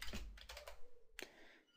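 Quick keystrokes on a computer keyboard, a short run of soft, close clicks with a final tap after a brief pause, faint and alone.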